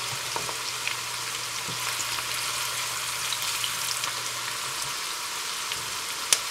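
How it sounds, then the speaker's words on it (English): One medium onion fries in hot oil with a continuous, fairly quiet crackling sizzle and a low steady hum beneath, with occasional faint clicks and no talking. "we will let this onion fry into the hot oil for 30 seconds"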